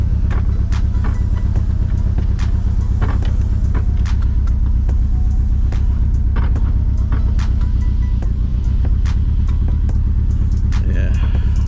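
Engine of a 2G DSM Mitsubishi Eclipse running with a clutch that is not grabbing, a loud steady low rumble with rhythmic ticking pulses throughout, close by, with voices nearby.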